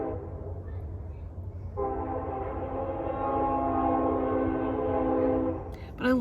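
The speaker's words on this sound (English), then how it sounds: "Let's let this train go by real quick." A train rumbles past as a loud, sustained horn blares for several seconds, fading near the end before a brief sharp sound.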